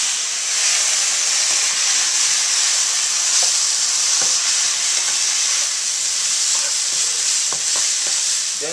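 Mushrooms fry in a hot pan with a steady, bright sizzle and hiss, broken by occasional soft scrapes and taps as they are stirred, close and without speech.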